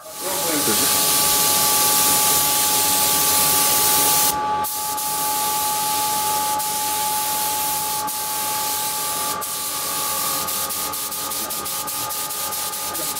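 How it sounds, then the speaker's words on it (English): A spray gun hisses steadily as matte lacquer is sprayed onto a camouflage-painted car part, a loud continuous spray that pauses briefly and then resumes with faint clicks. "That's why we cover this element with matte lacquer."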